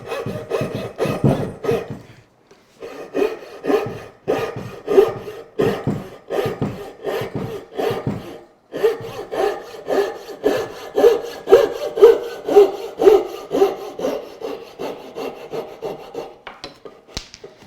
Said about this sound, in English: We're going to cut right along the bottom, as close to the bottom as I can get.